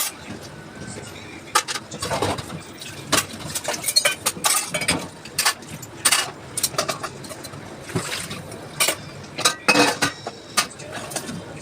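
Morning dishes and utensils clink and clatter while being washed in a home kitchen, irregular bursts of knocks and scrapes close by over a low running background.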